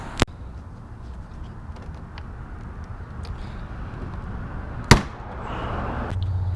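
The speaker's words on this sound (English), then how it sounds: "this front bumper piece clips off" Plastic clips on a front bumper piece of a 2018 Ford F-150 pop loose with two sharp, close snaps several seconds apart, against a steady background hum.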